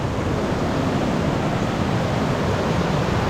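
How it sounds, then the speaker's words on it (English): Steady, dense roar of rushing water from a large waterfall close by in Croatia, loud and unbroken throughout. "The noise is quite thunderous with the waterfall beneath you."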